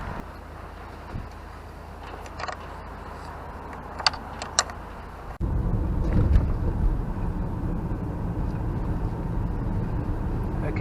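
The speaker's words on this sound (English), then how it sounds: "I'm just taking it for a couple of miles drive road test" A Vauxhall Opel Astra J with a low-coolant fault drives on a road test, a low rumbling road and engine noise that rises suddenly midway and carries on steadily, with a few small clicks and knocks earlier.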